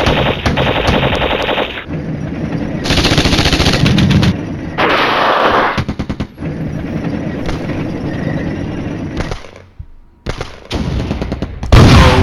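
Artillery and heavy gunfire in the wargame Flashpoint Campaigns, loud dense bursts of rapid firing and booming blasts in blocks across the whole stretch, with brief gaps and no talking.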